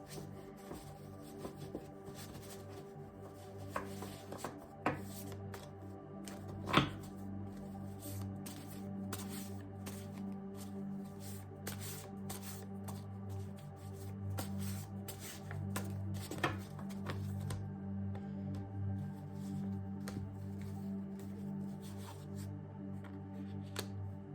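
Tarot cards are shuffled by hand at close range, quiet repeated riffling and rubbing strokes with small taps, no talking.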